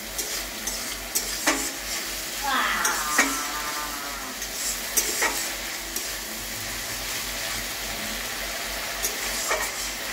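Egg mixture being stirred as it fries in oil in a pan: a steady low sizzle with scraping and clinks of a utensil against the pan, close and moderately loud.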